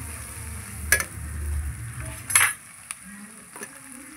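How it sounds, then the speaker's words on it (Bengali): Spice paste (masala) sizzles in a pan over an outdoor clay stove after a little water is added. Steady frying hiss runs throughout, broken by a few sharp spoon scrapes against the pan, up close, with no talk. "মশলাটা ভালো করে কষে নেব। একটু জল দিয়ে দেবো।"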